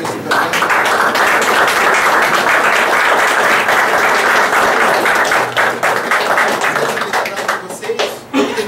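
A large church congregation claps loudly and continuously, a dense wash of applause that thins slightly near the end.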